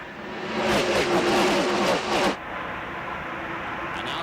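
NASCAR stock cars racing at Talladega Superspeedway in the 1995 Winston Select 500 roar past in a pack, loud engines rising and sweeping by for about two seconds before fading to a steady distant drone.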